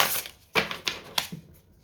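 Tarot cards being shuffled by hand in several quick crisp riffles and flicks, close and fairly quiet, with brief pauses between bursts and no talking.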